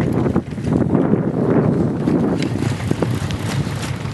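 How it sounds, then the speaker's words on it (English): Wind blowing across the Lake of the Ozarks on a cold day out on the water, a steady loud rushing buffet against the microphone with faint knocks, and no talk. "Wind's blowing."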